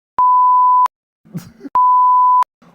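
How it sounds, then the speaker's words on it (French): Two long, steady censor beeps at a single pitch, with muffled speech fragments cut between them. "On va biper."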